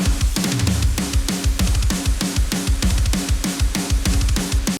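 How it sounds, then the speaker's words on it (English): Dense modern metal drum mix reinforced with added drum samples, punchy kicks and snare hits in a fast steady groove under bright cymbal wash, loud and continuous with no voices. "So let's hear again the drums with the samples this time."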